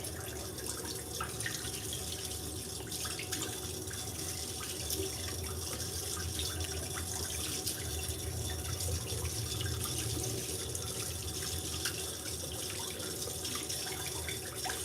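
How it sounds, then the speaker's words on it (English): Steady water runs from a tap into a sink while someone washes their face, a continuous broad rush that holds at an even level throughout with no talking. "So I'm going to stick my head in the sink and let me wash this off quickly."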